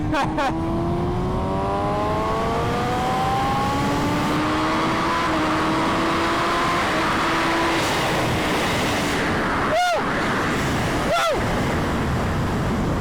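Steady roaring engine and rushing wind noise from a moving BMW S1000RR sport motorcycle with a loud exhaust, with rising and falling pitch as it accelerates, continuous throughout.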